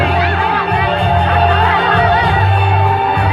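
A crowd cheers at a Lao Women's Union 63rd anniversary celebration, a loud continuous roar of voices and shouts with amplified talking and tonal sound mixed in.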